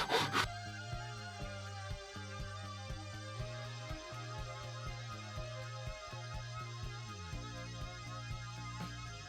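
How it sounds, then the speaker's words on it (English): A hacksaw cuts through a wooden longboard paddle blank in steady back-and-forth strokes, a close, rhythmic rasp with regular pulses and no talking. "Now you can take a saw, I'm going to be using a hacksaw,"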